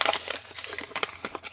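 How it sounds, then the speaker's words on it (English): A paper document crushed in the hands to age it for a collage, producing a close, dense run of crinkling and crackling over about a second and a half with no talk. "you can sort of crumple it as well"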